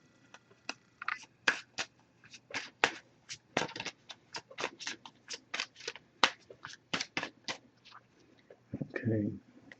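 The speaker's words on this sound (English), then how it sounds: "I'm just going to give it a few more shuffles" Oracle cards being riffled and shuffled close up, a rapid series of crisp flicking snaps, ending with a brief low voice.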